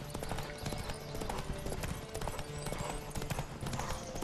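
Horses gallop in The Witcher 3: Wild Hunt, with rapid continuous hoofbeats throughout and a faint whinny over game ambience.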